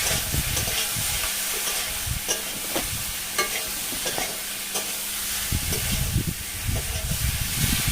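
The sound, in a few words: catfish frying in spice paste (masala), being stirred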